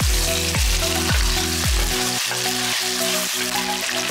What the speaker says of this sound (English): stir fry the chicken for 5 minutes on high flame